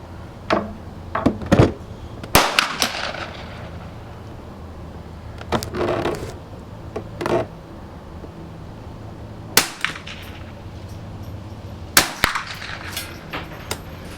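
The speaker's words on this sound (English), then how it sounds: "I'm shooting at the dirt to the left" Shots from a Winchester M190 rifle with a scope crack out one at a time, separated by pauses of a few seconds, each a sharp, fairly close report.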